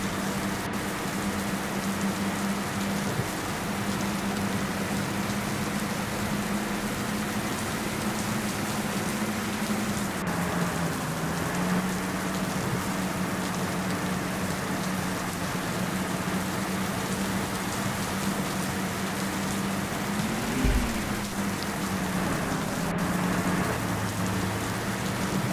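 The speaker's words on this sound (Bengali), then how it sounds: "গাইজ বৃষ্টি কিন্তু হয়েই যাচ্ছে" Rain falls steadily on a moving bus during a road journey, a constant broad hiss of drops over a low engine drone that holds for the whole stretch, with no voices.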